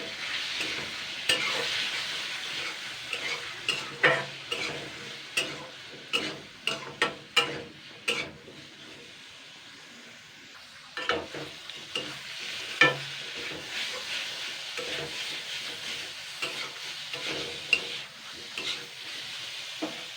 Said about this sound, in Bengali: এবার আমি এটাকে আবারও আমি দুই তিন মিনিট কষিয়ে নেব আলুটাকে